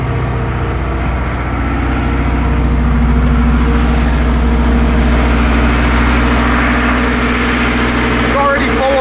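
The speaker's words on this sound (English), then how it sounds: "And then we can go ahead and turn on our compressor." An air compressor on a Graco GH2 spray foam rig runs with a loud, steady low mechanical drone that stays constant throughout, with no talking.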